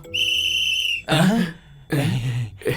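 A shrill sustained whistle blast, loud and close, lasting about a second, followed by bursts of excited voices talking over a faint background.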